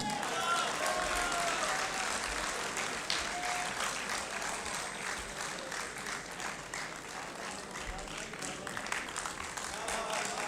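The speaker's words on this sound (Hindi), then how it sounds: "आप भरपूर तालियों में इस्तकबाल कीजिएगा" An audience at an Urdu poetry mushaira in Multan claps in steady, sustained applause, filling the hall, with a voice speaking over part of it.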